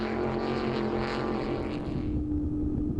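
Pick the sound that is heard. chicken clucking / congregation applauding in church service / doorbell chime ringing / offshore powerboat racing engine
offshore powerboat racing engine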